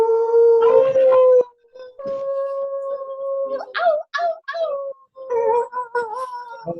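Several people at a full moon yoga and guided meditation session howl together in long wavering voices, imitating wolves, with breaks between rising and falling howls and a brief exclamation.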